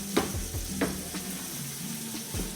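Charro beans cooking in a pan with white and red onions, giving a steady low sizzle and frying crackle with a few stirring scrapes, close and moderately loud.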